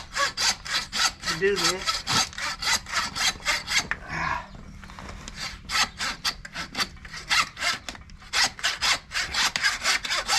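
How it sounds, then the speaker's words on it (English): A reciprocating saw cuts through a large deer carcass while it is quartered, giving rapid rhythmic rasping strokes close up with a brief pause midway, and a voice speaks briefly over it. "Sometimes I use the reciprocating saw"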